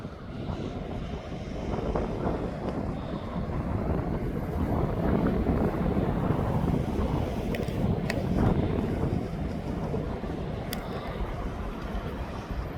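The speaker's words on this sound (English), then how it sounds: "And here comes that Ryanair now." A Ryanair airliner approaching East Midlands Airport, a broad continuous roar building and holding steady, heavily mixed with outdoor wind buffeting the microphone.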